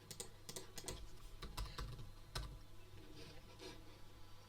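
Quiet, fast typing on a computer keyboard, an uneven run of soft key clicks and a few heavier taps, with no voices.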